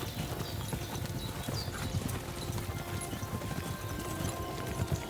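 Steady clip-clop of video game horse hooves walking at an even pace, with a low rumbling bed underneath and no talking.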